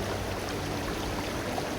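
River water flowing in a steady, even rush, heard up close for a short stretch with no voices.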